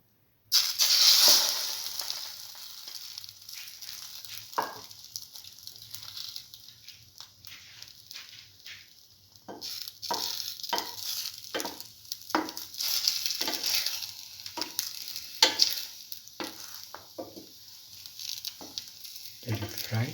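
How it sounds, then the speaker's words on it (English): Chili tomato French toast, bread dipped in an egg, chili and tomato batter, frying in a pan with a steady sizzle. Brief scraping and stirring sounds come and go over the crackle, and no one speaks. "let it fry."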